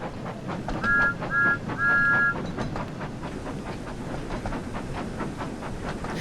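A steam train in the video game Wonders of Sodor chugs along with a rhythmic puffing beat and rail clatter, while three short whistle toots sound early on.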